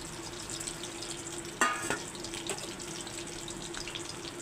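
An oil-free fish and potato curry bubbles in a pot with a low steady simmer, and a brief splashy clatter comes midway as something is stirred or added.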